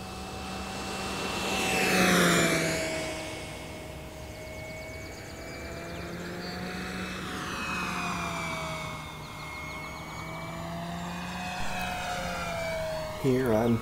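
E-flite P-47 Razorback RC model airplane, 1.2 m electric warbird on a 4-cell battery, flying at full throttle; a steady propeller and motor whine rises and falls as it passes, loudest near the start, with a voice talking over it.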